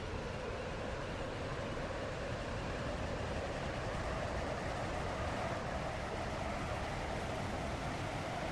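A Class 350 train in the Roblox game Stepford County Railway running between Stepford Central and Leighton City, with a continuous loud rumbling roar of wheels and motors that stays steady the whole time and has no announcements over it.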